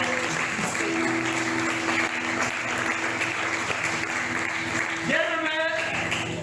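A church congregation bursts into sustained applause and cheering, a dense steady wash of clapping from many hands filling the room, with voices mixed into the crowd noise.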